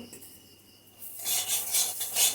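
Grated coconut being fried with semolina in a pan for sweet semolina payesh, a dry scraping and rasping stir that starts after a quiet second and carries on in steady, close strokes.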